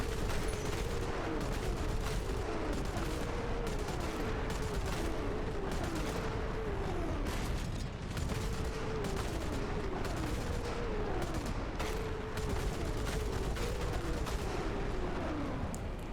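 War Thunder tank battle with an M26 T99 firing fixed rockets: a dense, continuous roar of rapid launches and blasts over rumbling engine noise, with repeated whooshing streaks of rockets.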